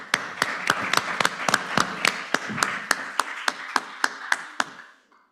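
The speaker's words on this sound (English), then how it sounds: "Please give our speakers a round of applause." Steady, evenly spaced clapping after a panel discussion at the 4th Annual UPMC Children's Hospital of Pittsburgh Da Silva Center for Ebstein's event, sounding like a few hands in a sparse rhythm that keeps going for several seconds and then stops abruptly.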